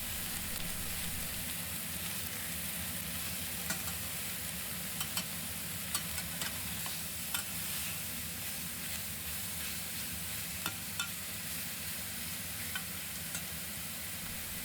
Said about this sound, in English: As the meat starts to sizzle, stir it.